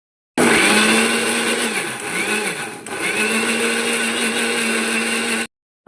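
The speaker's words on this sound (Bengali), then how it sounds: "মিক্সির বাটিতে নিয়ে এবার পেস্ট করে নিয়ে আসছি" A mixer grinder whirs loudly as it blends semolina into a thick paste, a steady motor drone with a brief dip in pitch midway before spinning back up, then cutting off abruptly.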